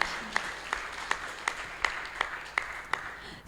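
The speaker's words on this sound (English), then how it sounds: "A huge round of applause to her." Audience applause at a Hare Krishna Sunday Love Feast comes through faintly as an evenly spaced, rhythmic series of claps, like a small group clapping in time.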